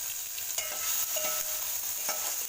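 Capsicum and tomato stir-frying in a hot pan for fried rice, a steady bright sizzle with intermittent scrapes and clicks of a spatula stirring the vegetables, close and continuous, no voices.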